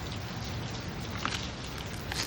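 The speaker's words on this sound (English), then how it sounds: "but it started to rain" Rain falls outdoors in a park as a steady, close, unbroken hiss of drops pattering on surfaces, with no voices.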